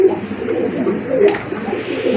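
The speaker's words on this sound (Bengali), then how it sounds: "এটা হচ্ছে সিঙ্গেল একটা মাদি কবুতর, অনেক বড় সাইজের কবুতর" A large female pigeon coos close by in a low, continuous, throaty murmur, with no talking.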